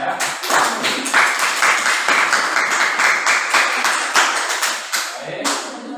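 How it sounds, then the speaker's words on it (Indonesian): Classroom audience applause for a student presentation during a teaching practice lesson, a dense, steady burst of many hands clapping close by for several seconds before tapering off. "Kita kasih tepuk tangan untuk nomor 3 ya"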